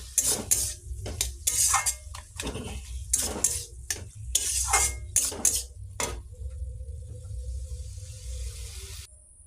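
Cumin and black mustard seeds fry in oil while a spoon repeatedly scrapes and stirs them through a vegetarian dish, with clattering metal strokes in bursts, then a softer steady sizzle near the end.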